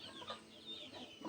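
Chickens cluck on and off at moderate distance along a rural mountain trail from Hiquial to Masicampo, soft clucks repeating in short bursts with no talking.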